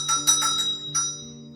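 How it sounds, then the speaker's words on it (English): A servant-summoning bell in a restored French château rings in a few quick metallic strikes with a lingering tonal hum, fairly close and clear. "And the bell for her to be summoned"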